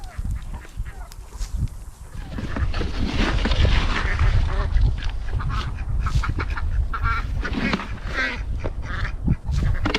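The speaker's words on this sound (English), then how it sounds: "All right, ducks, you guys enjoy." A busy chorus of nearby ducks quacking and honking, with overlapping calls and a low, rustling background throughout.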